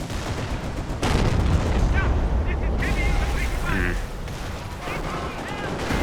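An artillery barrage rumbles through a Company of Heroes match with deep booms and crackling explosions, some overlapping, in a dense, loud burst.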